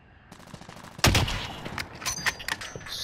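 Gunfire in the video game Call of Duty: Modern Warfare, a sudden loud burst of shots followed by scattered rapid cracks and echoing reports, with no talking.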